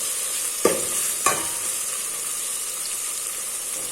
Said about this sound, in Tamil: இது கூட சேர்த்து நல்லா வதக்கிடலாம்